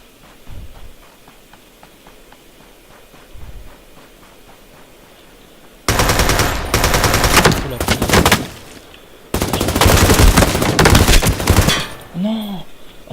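Bursts of rapid automatic fire from the Hog weapon in the battle royale game Ring of Elysium, two long loud volleys after quiet ambience with faint distant shots, ending in a whooshing tail.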